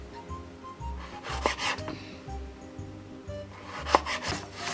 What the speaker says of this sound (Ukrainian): Редиску теж нарізаємо півкільцями, те також не товсто.